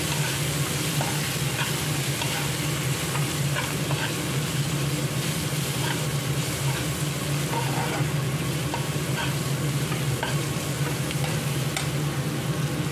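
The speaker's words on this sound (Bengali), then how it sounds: "এটাকে মশলাটাকে ভালো করে মেশাবো" Ground spices with dry chili powder and coriander powder being stirred in a frying pan, giving a loud, dense sizzle that runs without a break along with faint scraping of the spoon.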